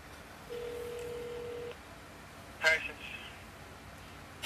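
A telephone being dialed: one steady tone holds for about a second, then short keypad beeps follow after a pause. The sounds are fairly quiet, with a few brief handling noises.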